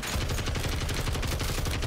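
Rapid automatic fire from a TAQ Evolvere rifle in Modern Warfare 3 Zombies, a dense unbroken burst of shots rattling steadily for the whole stretch, loud and close.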